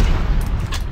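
A grenade explodes in a video game, a single loud close boom filling the short moment with a dense rumbling burst.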